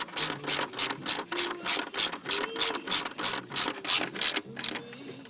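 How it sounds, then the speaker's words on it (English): A hand ratchet clicks in quick repeated bursts, about a dozen strokes, while tightening bolts on a 2006 Chrysler PT Cruiser engine, close and crisp with short pauses between strokes. "move all the way over to the opposite side and crank that one down"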